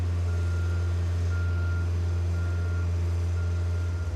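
A boom lift drives forward and then backward, its engine droning low and steady with a repeating reversing beep sounding throughout, close and loud.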